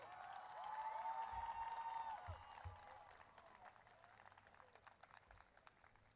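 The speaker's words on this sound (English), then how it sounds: "give a round of applause to your teachers and parents" Applause at the Spring Lake Park High School Class of 2018 commencement swells from a large audience, loud at first and then gradually thinning, with cheering and scattered claps continuing beneath a held tone near the start.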